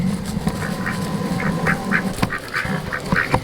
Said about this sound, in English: There's the Quack Pack. The pond is nice and full. They're enjoying life